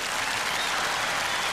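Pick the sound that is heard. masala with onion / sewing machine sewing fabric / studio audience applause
studio audience applause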